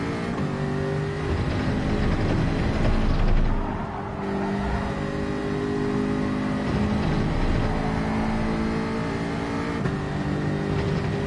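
A car engine in the Gran Turismo 7 racing game drones continuously and loudly, its pitch rising and dipping with throttle as it revs, and a brief lift in the engine note breaks the run near the middle.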